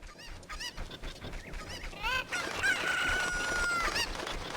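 Chickens in Zelda: Ocarina of Time cluck in short bursts, then one crows loudly and rises into a long, sustained squawk, all fairly close and with no speech.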